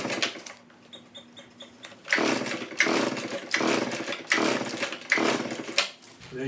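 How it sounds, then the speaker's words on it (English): A small two-stroke engine on a Husqvarna leaf blower idles unevenly at first, then runs louder in rough, pulsing bursts, buzzing close by. "There's your 2-cycle leaf blower"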